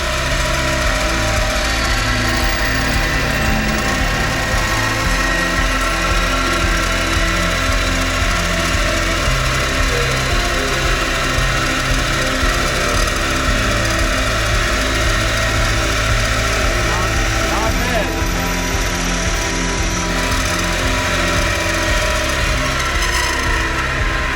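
Machine spindle turning at a couple thousand RPM and cutting at 15 inches per minute, a loud, continuous whine with a steady chattering drone throughout, no voices.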